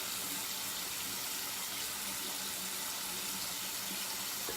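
A shaving brush is rinsed under a running tap after lathering with coconut oud shaving soap, the water pouring in a steady, continuous hiss for several seconds with no talking.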